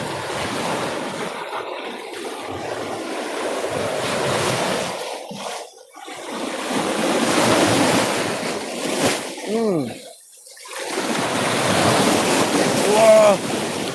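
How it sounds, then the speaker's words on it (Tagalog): Strong sea waves surging and washing, with heavy wind buffeting the microphone, the roar rising and falling in broad swells and breaking off briefly between surges. "Matapang yung alon, matapang."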